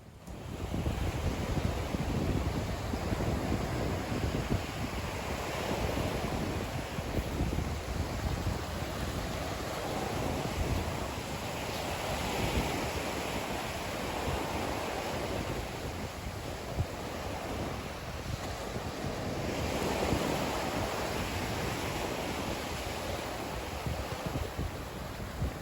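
Steady surf washing ashore at Lover's Key State Park beach in Florida, a continuous broad rush of breaking waves with wind buffeting the microphone, swelling and easing over time with no voices.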